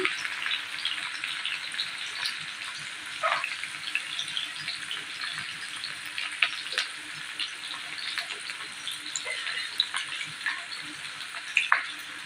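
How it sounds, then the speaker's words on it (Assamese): Steady crackling sizzle of onions frying in hot oil until reddish, close and continuous, with a few sharper pops and spits now and then. "পিঁয়াজখিনি ৰঙচুৱা হোৱালৈকে অলপমান ভাজি ল'ম।"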